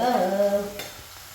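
Sliced onions frying with salt in a pan while cooking tapioca and beef, a steady close sizzle with a tonal hum at the start that fades, leaving the softer crackle.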